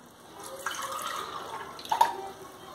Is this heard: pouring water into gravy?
yes